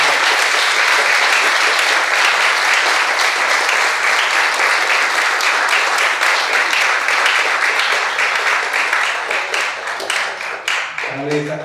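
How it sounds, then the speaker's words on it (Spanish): Loud, dense applause from the audience after a round table on education and freedom, sustained evenly before thinning out at the end as a voice begins speaking. "Pues le damos un gran aplauso."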